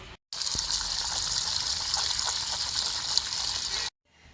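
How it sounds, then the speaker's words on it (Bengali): Water gushes steadily from a tap over small mola fish being washed, a loud, continuous rushing splash lasting a few seconds that starts and stops abruptly. "এখন জলে পরিষ্কার করে ধুয়ে নেব"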